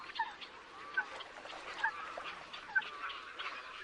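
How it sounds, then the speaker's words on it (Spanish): Greylag geese call at a lagoon, with several honking cries rising over one another at moderate distance against a soft background. "El ánsar es el mayor de los gansos europeos."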